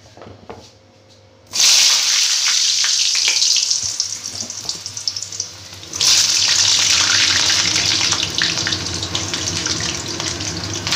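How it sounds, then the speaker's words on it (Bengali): Potatoes dropped into hot oil in a pan set off a sudden loud, hissing sizzle that fades to a steady crackle, then flares again as more go in; the frying runs alone without talk. "কড়াইতে আমি তেল গরম করতে দিয়ে দিয়েছি। দেখো এর মধ্যে আমি মাংসের যে আলুগুলো ভেজে নেব।"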